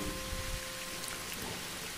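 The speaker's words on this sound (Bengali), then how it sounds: "শ্রাবণের বৃষ্টি" Steady monsoon rain pours down over the streets of Dhaka Cantonment, a dense, even hiss of falling water with a faint low hum underneath, brief and uninterrupted.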